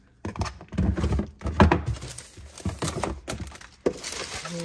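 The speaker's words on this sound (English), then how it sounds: "Okay, let's put the stuff inside the drawer." Food containers knocked and set down inside a drawer, a string of close, loud thunks and clatters with some crinkling of bags, no speech.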